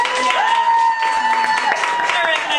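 A theater audience claps and cheers at a live show, a steady wash of applause with a sustained tone running through it and people talking over the crowd noise.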